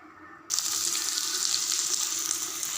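Spices tempering in hot oil for a fried fruit-peel dish, a sudden loud sizzle that starts after a brief quiet moment and then holds steady and close, a bright hiss with no talking.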